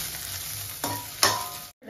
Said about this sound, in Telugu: ఇప్పుడు కరివేపాకు, కొంచెం ఫ్రై అవ్వాలి.